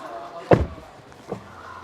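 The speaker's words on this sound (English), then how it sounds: "I close the door." An Xpeng P7 car door shuts with one solid thump, followed by a fainter knock a moment later.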